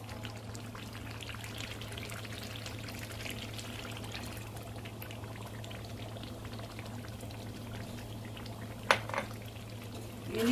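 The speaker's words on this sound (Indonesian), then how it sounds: "Saya akan masukkan santan ya" Coconut milk is poured into a pot of tender, simmering beef rendang, giving a steady liquid rush and bubbling that runs evenly, with a brief clatter of a utensil near the end.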